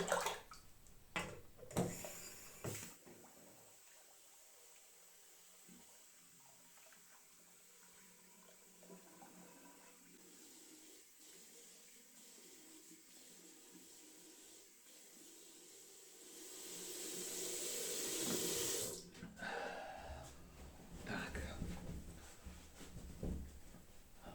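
Cold tap water runs into a sink as a face is rinsed after shaving, with soft splashing at first, a long quiet stretch, then a louder hissing stream that swells toward the end.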